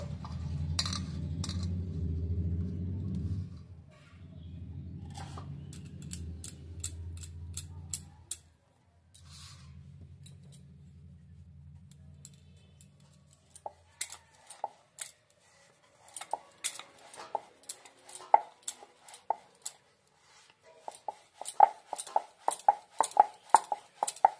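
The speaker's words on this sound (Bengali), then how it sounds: "এবার রুটিটা বেলে নেব।" A rolling pin rolls out carrot roti dough in a home kitchen, giving low rumbling passes in three bursts, followed by scattered light clicks and taps from utensils.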